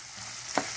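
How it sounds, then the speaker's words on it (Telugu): Onions frying in a pan, a steady hiss with one brief louder sizzle near the end, close and moderately quiet with no talking. "ఇలా ఉల్లిపాయలు వేసేసుకుని చక్కగా ఫ్రై చేసుకోవాలి."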